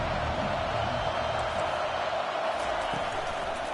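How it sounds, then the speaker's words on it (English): A large video game football crowd roars steadily in a dense, continuous wash of noise, loud and sustained throughout without pauses. "listen to this crowd roar"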